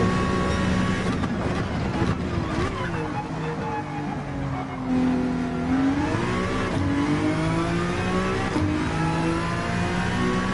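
A race car in the video game Gran Turismo drives through a turn: a loud, continuous engine drone that dips as the car brakes, then climbs again as it accelerates out of the corner.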